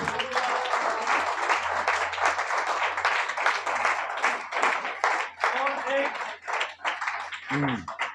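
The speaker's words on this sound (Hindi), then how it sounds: "खुदावंद के लिए जोरदार तालियां बजा दें।" A church congregation claps loudly during a sermon, sustaining a dense, rapid clatter for several seconds. A voice rises over it at times, and the clapping breaks up toward the end.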